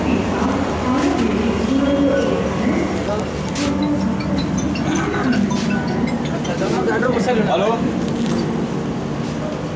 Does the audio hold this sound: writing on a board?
no